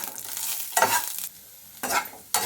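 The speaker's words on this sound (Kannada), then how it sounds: "ತುಪ್ಪಕ್ಕಾದ್ಮೇಲೆ ಇವಾಗ ಇದಕ್ಕೆ ನಾನು ಗೋಡಂಬಿ ದ್ರಾಕ್ಷಿ ಹಾಕ್ತಾಯಿದ್ದೀನಿ. ಇದನ್ನು ಚೆನ್ನಾಗಿ ರೋಸ್ಟ್ ಮಾಡ್ಕೋಬೇಕು." Cashews and raisins roasting in ghee in a pan for semiya payasa, a soft sizzle punctuated by three bursts of scraping stirring, close and clear with no talk.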